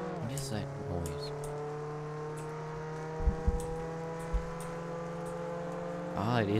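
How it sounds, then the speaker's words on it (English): Boat engine in the Roblox game Jailbreak, a steady droning hum with sustained tonal layers, joined by a few brief thumps midway and a swelling rise near the end. "Ah, it is a boat."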